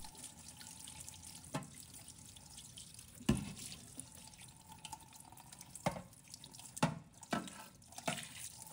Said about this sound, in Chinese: 打开水龙头，用清水反复冲洗锅盖